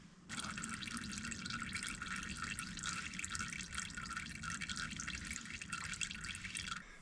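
Transmission fluid drains from a 2002 VW EuroVan into a container as a steady, close liquid trickle, running unbroken for about six seconds with no talking.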